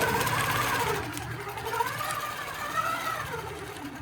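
A sewing machine stitches a quilt using a quilting template. It runs with a steady close mechanical hum and rapid needle rhythm that eases slightly partway through, with no speech.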